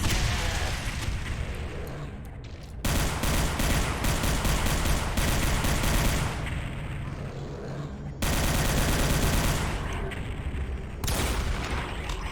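A rocket launched in Brutal Doom 64 with the Project Nightmare addon, heard as loud, dense blasts and rumbling gunfire in sustained bursts, with brief drops in between and no talking over it.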